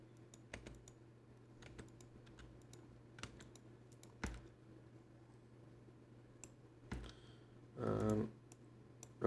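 Number keys on a computer keyboard are pressed as separate, sparse clicks spread unevenly over several seconds, close and fairly quiet, with a brief louder burst of noise near the end.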